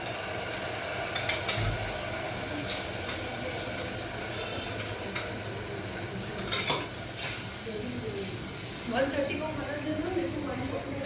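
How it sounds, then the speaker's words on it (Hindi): Tomato puree being stirred into cooked onions in a pan for a whole moong dal dish, with a spoon scraping and clinking against the pan at close range amid a soft sizzle. "टमाटर और प्याज में अच्छी तरह से मिक्स कर रही हूँ।"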